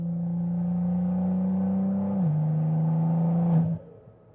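An 800 hp BMW M340 with a B58 engine holds a steady, smooth engine drone, then a manual shift drops the pitch. The note rises briefly and cuts off sharply.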